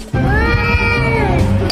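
A cat lets out a long, loud drawn-out meow, close and unbroken for nearly two seconds, starting after a brief pause.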